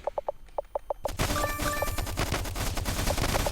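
Rapid submachine gun bursts in the Stickman Trenches war game: a few short, spaced volleys, then a dense, continuous barrage of overlapping automatic fire with layered battle noise, loud and close.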